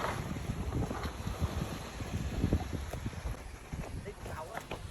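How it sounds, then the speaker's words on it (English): Suzuki Jimny off-roader in four-wheel-drive low range splashing through water puddles, a continuous rushing wash of water and wind noise with engine rumble beneath, steady and fairly loud throughout. "Now we move through some puddles for fun and test for its four-wheel"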